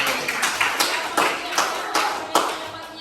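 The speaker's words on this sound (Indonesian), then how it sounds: "Aplaus lagi untuk Ramadhani" A classroom of students claps for a student named Ramadhani, a dense ragged burst of applause with several louder surges, close and steady for about three seconds, with faint voices underneath.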